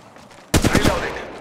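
A sudden burst of rapid gunfire from enemies in the mobile shooter Apex Legends Mobile cracks in loud and close, with several quick shots trailing into a ringing decay.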